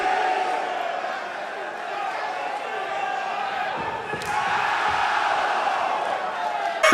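A loud TNA wrestling crowd in New York City roars and yells continuously throughout, a dense wall of cheering voices with a few sharper shouts rising near the end.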